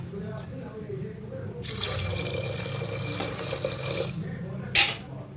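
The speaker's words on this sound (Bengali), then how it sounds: "দিয়ে এবার জল দেবো।" Water pours into a pot of vegetarian chana dal cooked with coconut, a few seconds of a rushing splash over a low background hum, then a short sharp clatter near the end.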